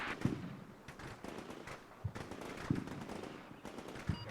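Far-off gunshots crack out intermittently across open ground, faint single reports and short bursts recurring a few times amid a steady background hiss.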